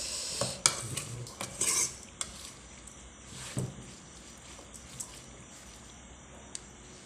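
Raw beef larb mixed with toasted rice, with intermittent utensil clinks and scrapes against a bowl, a few sharper knocks over a quiet background hiss.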